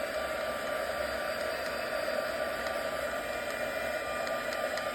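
Heat tool switched to setting 2 drying craft work, a steady loud blowing hiss with a constant whine running unbroken and close throughout.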